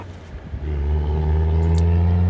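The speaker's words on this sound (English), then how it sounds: "That was actually a vehicle and not my belly." A car engine hums steadily and grows louder as the vehicle drives past close by on a coastal road near Wellow, Isle of Wight, a low rumbling drone that swells and holds.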